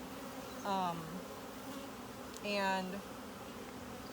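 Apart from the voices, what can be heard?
honey bees buzzing in a hive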